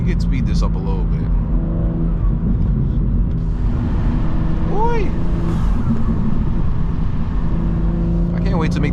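A BMW M2 G87 with a 600 hp manual setup accelerating on a night drive, the engine note rising and falling in pitch through gear changes, loud and close, with someone speaking briefly over it.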